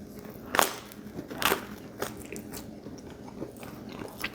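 Crunchy bites into cheesy pizza bread, two sharp close crunches followed by softer chewing crackles, with no talking.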